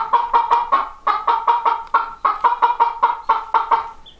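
A mother hen raising chicks clucks steadily in quick repeated bursts, close by and fairly loud, with short pauses between clusters of clucks, on a Wyoming homestead.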